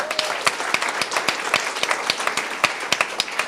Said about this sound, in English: big round of applause for our friends at IBM